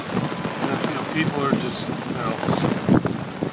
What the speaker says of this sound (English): braving this downpour,